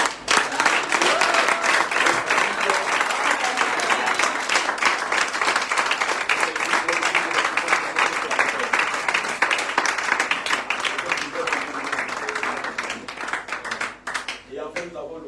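A church congregation applauds steadily and loudly for about fifteen seconds, dense clapping mixed with scattered voices and shouts, tapering slightly at the end.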